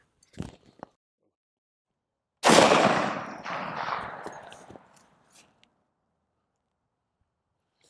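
A few faint clicks, then a single sharp unsuppressed rifle shot cracks out and rolls away in a long fading echo, followed by quiet.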